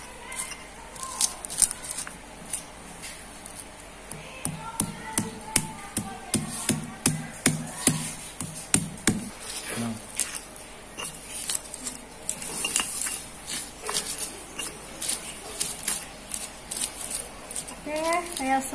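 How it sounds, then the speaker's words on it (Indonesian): Chili and shallots pounded coarsely in a stone mortar (ulekan) for sambal, a run of close, rhythmic knocks and grinding scrapes that quicken in the middle, with some faint background sounds around them. "Kemudian kita ulek cabai sama bawang merahnya, jangan nyampe halus, kita ulek kasar saja ya."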